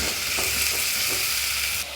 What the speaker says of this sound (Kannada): ದಾಲಿಗೆ ಈಗ ಇದು ಒಗ್ಗರಣೆ